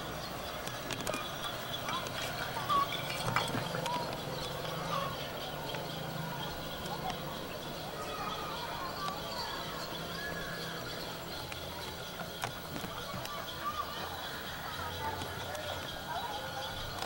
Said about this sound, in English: Bells of the horse carts.